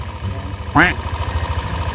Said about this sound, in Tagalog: so ito na po yung tunog ng makina mga sir, mga boss.